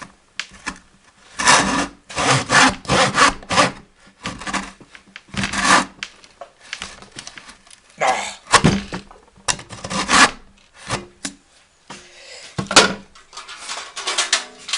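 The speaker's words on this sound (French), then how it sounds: "on reprend ma scie" A hand saw cuts through wood on a wobbly workbench, its rasping strokes coming in close, loud bursts with short pauses between.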